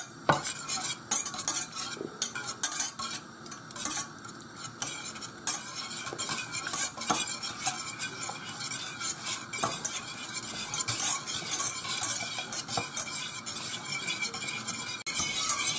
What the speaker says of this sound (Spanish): Y ahora se echa la mantequilla. Y seguimos moviendo.